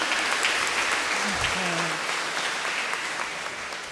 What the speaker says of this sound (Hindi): तो फादर के लिए भी जोरदार तालियां बजा दें।